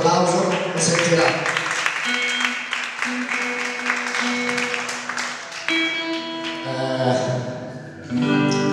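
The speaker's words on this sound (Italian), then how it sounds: "un applauso, lo sentirà" An audience at an Arci Bellezza live music evening claps for the artist taking the stage. Applause runs dense at first and thins as instruments and tones begin to sound over it.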